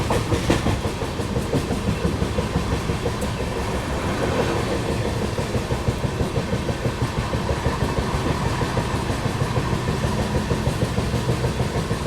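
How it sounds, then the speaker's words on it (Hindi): Steady, rhythmic clatter of wheels on track and a heavy, constant rumble from within a 3AC coach of the Kashi Vishwanath Express between Delhi and Lucknow as the passenger train picks up speed again. "और यहाँ दोबारा से स्पीड पकड़ती हुई हमारी ट्रेन।"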